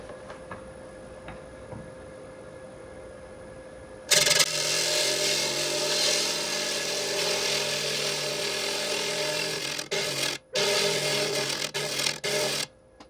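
A wood lathe spins up and a turning tool cuts into the wood, giving a loud, steady rough scraping whir with a few brief interruptions as material is removed.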